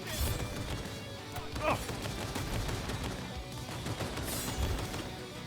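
Sniper gunfire in the video game Road to Liberty: New Horizon, a few sharp shots cracking through a dense, noisy battle soundscape.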